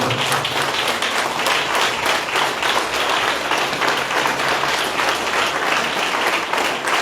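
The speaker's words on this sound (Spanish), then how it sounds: "Vamos a darle un fuerte aplauso a Jesucristo." Loud, dense applause from a church congregation carries on steadily and evenly throughout, with no talk over it.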